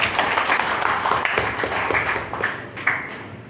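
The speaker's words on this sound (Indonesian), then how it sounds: "Mari kita berikan tepuk tangan yang meriah." A crowd applauds at an Aceh gathering of the Pemuda Batak Bersatu organisation, the clapping dense and steady throughout, with a few sharper claps standing out near the end.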